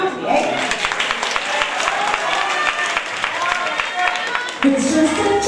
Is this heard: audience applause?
yes